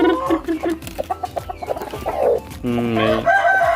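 Chickens cluck and a rooster crows around a broody hen on a backyard poultry setup, the calls close and busy, with someone talking over the birds for much of it.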